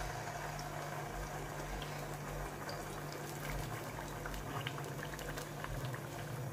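Peri peri chili mixture cooking in a pot of olive oil, a continuous close bubbling and gentle sizzle that stays steady throughout.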